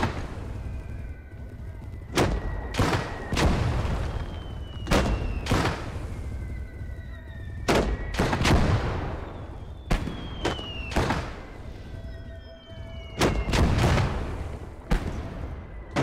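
Mortar fire in the WWII strategy game Gates of Hell: a series of heavy booming launches and impacts spaced a second or two apart, some rolling into distant echoes, with faint whistling tones between, steady and loud throughout.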